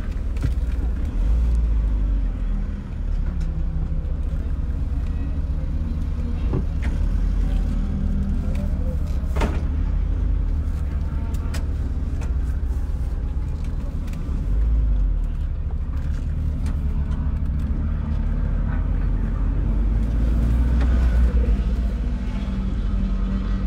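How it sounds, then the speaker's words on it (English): A car races around the Snetterton circuit with a loud, steady engine roar and rumbling road noise that rises and eases through gear changes, heard close from inside the car, with speech in places. "Okay guys, we're racing around Snetterton."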